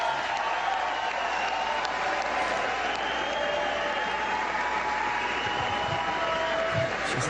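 A crowd applauding a governor's speech with steady, sustained clapping that holds at an even level throughout, a faint voice or two mixed underneath.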